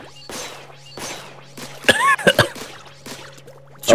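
A person coughs and clears their throat in a few sharp bursts during a Splatoon 3 livestream, near and loud, separated by short quiet gaps, with a faint steady hum underneath.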